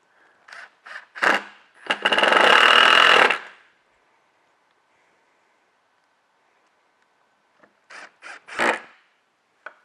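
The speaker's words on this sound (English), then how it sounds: "I'm going to use 4 of the screws that are provided in your parts bag to put this on right in the dead middle of the board" Screws driven into a wooden board with a power driver: one close burst of whirring lasting more than a second, framed by scattered clicks and knocks before and after, with a long quiet gap between them and no speech.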